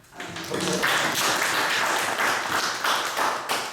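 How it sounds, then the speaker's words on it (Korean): A church congregation applauding together during a sermon, a dense, steady wash of clapping that swells quickly and carries on for several seconds. "그 주님께 우리는 박수를 올려드립시다"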